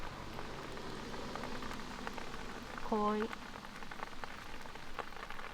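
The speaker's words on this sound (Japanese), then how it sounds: "雨がすごい。" Heavy rain falls steadily on a surface during a van trip in Hakone, a dense continuous patter with scattered drop hits throughout, under brief soft talk and a short tonal chirp near the middle.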